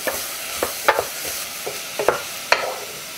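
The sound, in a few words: stirring acorn squash and apple soup in a pot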